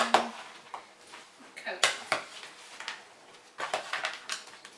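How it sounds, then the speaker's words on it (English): Spoon stirring an apple, pear and walnut fruit salad in a bowl, giving soft scraping clinks and moist tumbling sounds in irregular bursts, close by and fairly quiet, with a brief spoken word. "I'm going to grab a spoon because for some reason I didn't do that. I'm going to mix it all around."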